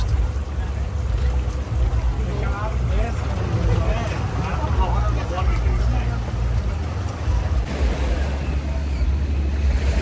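Surf washes steadily onto Monkey Beach on Phi Phi Island, Thailand, a continuous broadband rush of breaking waves under nearby voices chatting throughout.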